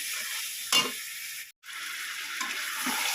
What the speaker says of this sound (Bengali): মশলাটা ভালো করে কষিয়ে তারপরে মাংসটা দিয়ে দিয়েছি